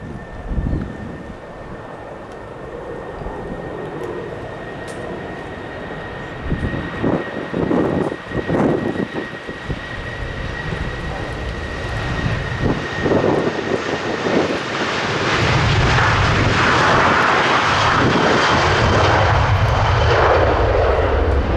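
A Ryanair airliner takes off at London Stansted Airport, starting as a distant jet rumble with faint hiss, then swelling into a loud, sustained roar near the end.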